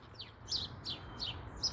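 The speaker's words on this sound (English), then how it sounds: "Hello, little sparrows." Sparrows chirp in a quick series of about five short, bright calls, fairly close and clear over a low, steady background hum.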